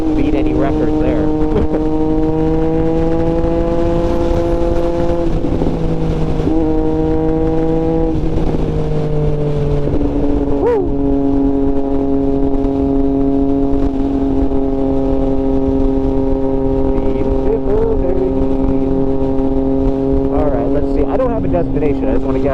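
A 2024 Triumph Street Triple 765 RS motorcycle engine drones loudly and continuously while the bike is ridden through the city, its pitch rising and dropping through gear changes as the rider talks over it.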